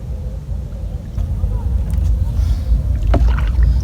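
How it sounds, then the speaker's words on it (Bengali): A wooden rowing boat is turned on village water, with close splashing and dipping oar strokes over a steady low rumble of wind and water, and a sharper slap near the end. "আমি নৌকাটাকে একটু ঘুরিয়ে নেই।"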